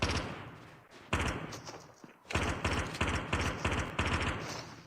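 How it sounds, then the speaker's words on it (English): Rapid bursts of automatic gunfire from the Call of Duty Mobile battle royale game crackle in several volleys separated by short gaps, loud and dense, with no voices over them. "Boba avoiding a lot of the gunshots there as Wiz."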